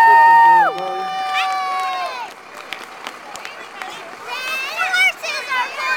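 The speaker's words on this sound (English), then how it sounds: "let's give a big round of applause" Outdoor crowd at a Christmas parade, Jinglefest 2015, with shrill whistles and shouting voices, children yelling, cheering and scattered clapping, loud and lively, with voices rising again near the end.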